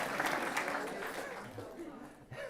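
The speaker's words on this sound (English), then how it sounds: "I'm not sure if you should be clapping her or me here." An audience at a weight-loss talk gives brief applause mixed with chuckles and chatter, fading out after a couple of seconds.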